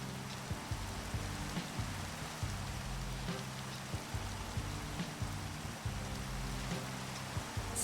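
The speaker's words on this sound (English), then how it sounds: "Rain again?" Faint, steady rain hisses across the whole stretch, with soft rhythmic low thumps pulsing underneath and no voices.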